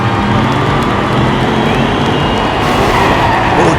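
Diecast miniature race cars, including a Nissan and a Lamborghini, speed and brake on a track, heard as a loud, continuous rolling roar with a skidding, squealing edge throughout.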